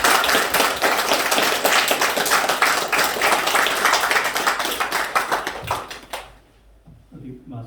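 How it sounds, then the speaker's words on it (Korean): Enthusiastic welcoming applause from a church congregation at a Sunday worship service in Jincheon, Korea, loud and dense for about six seconds before tapering off into quiet room sound with faint movement. "우리 나오실 때 힘차게 환영의 박수로 모시겠습니다"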